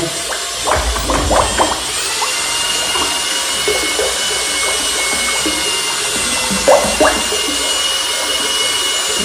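A small paint mixing paddle stirs plasterboard adhesive in a plastic bucket. Irregular scraping and sloshing strokes come in short bursts over a steady background hiss, close and fairly loud, with no talk.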